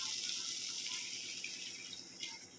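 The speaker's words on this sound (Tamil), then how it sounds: "நான் வந்து ஒரு டம்ளர் அளவு தண்ணி சேர்த்துக்கிட்டேன்" Steady hissing pour of about a tumbler of water splashing into a pan of egg curry, continuous and close, gradually easing slightly toward the end, with no voices.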